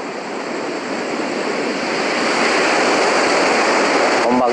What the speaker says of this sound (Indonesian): Ombaknya sangat besar sekali.